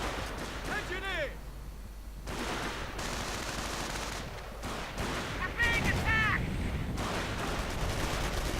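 Bursts of rifle and automatic gunfire from BARs and Gewehr 43s in a WWII strategy game battle, a continuous busy crackle of shots under game sound effects and a commentator talking throughout.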